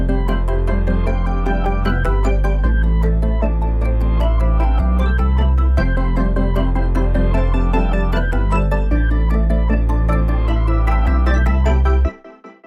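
A rendered beat loop plays with all its elements together: steady bass notes changing every few seconds beneath layered melodic synths and crisp rhythmic percussion, loud and continuous before stopping abruptly near the end.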